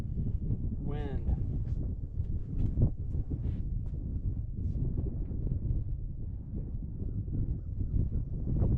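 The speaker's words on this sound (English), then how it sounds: "Wind." Steady low buffeting wind rumbles into a microphone outdoors at a long-range shooting setup, loud and continuous, with faint brief voice fragments in the background.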